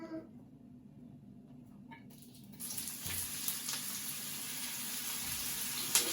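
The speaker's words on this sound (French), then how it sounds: "Donc l'huile est chaude, on va mettre les oignons." Chopped onions drop into hot oil in a pan for ratatouille, a faint background hush suddenly swelling into a steady, bright sizzle that keeps going with small crackles.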